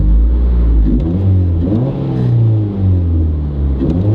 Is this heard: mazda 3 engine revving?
yes